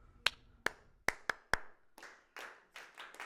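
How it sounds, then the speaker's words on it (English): A church audience claps together on the beat, with five sharp, distinct unison claps at a steady pulse, followed by looser, more scattered clapping that trails off. The sound is moderately quiet and there is no talking. "you just outed yourself that you could clap on beat"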